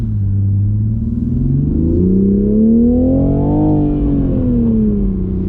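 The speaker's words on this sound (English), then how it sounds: "the exhaust sound on the 2020 model is amazing" A 2020 Toyota Supra's exhaust drones steadily while driving, its pitch climbing smoothly as the engine revs up, peaking, then easing back down, loud and close with no talk.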